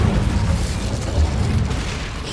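Incendio fire spell cast in Hogwarts Legacy, a loud, sustained whooshing rumble with heavy low boom that holds steady for a couple of seconds without any voices.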